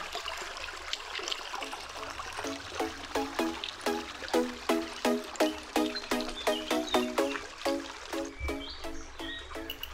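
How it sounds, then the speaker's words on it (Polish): A stream flowing through a wooded mountain valley gives a soft constant rush, while a bird repeats a rhythmic chirping call close by over the water. "szumiącego, płynącego doliną potoku"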